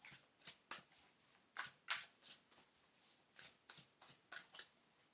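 Tarot cards shuffled by hand in a quiet room, a rapid regular run of about twenty soft riffling swishes close to the ear, with no talking.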